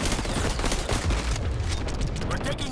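Rapid, continuous gunfire from the shooter video game XDefiant crackles at close range, with dense overlapping bursts that stay loud throughout the clip.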